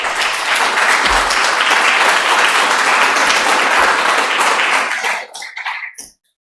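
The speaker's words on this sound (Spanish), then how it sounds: "Le damos por favor un aplauso." Sustained audience applause fills a conference hall at a chemistry postgraduate congress, loud and steady for about five seconds before thinning into a few scattered claps and stopping.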